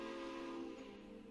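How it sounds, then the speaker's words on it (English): A mine's steam whistle wails in one sustained, loud and steady tone with a hissing edge, holding without a break and with no voices over it. "the eerie wail of the mine steam whistle echoed through the community"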